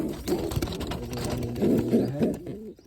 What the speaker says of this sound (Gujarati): કબૂતર બેઠું છે અત્યારે